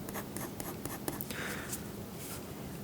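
Pencil shading black hair in a realistic portrait drawing, a steady close scratchy rasp of graphite on paper with quick repeated strokes and occasional sharper ticks, alone without talk.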